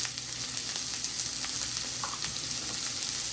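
Thyme and scallions sizzling in a hot pan while cooking rasta pasta, a steady close broadband fry with faint stirring ticks, no talking.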